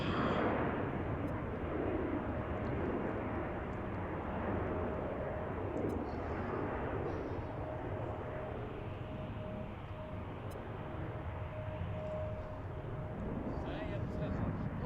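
An airliner departs runway 15 at Washington's Reagan National Airport, its jet engines a steady broad roar close by that holds for the whole stretch, with a faint high tone running underneath.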